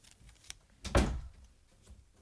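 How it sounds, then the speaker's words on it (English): A door is pushed shut with a single soft thud after a small tap just before, close by and moderately loud, then quiet. "Close my door."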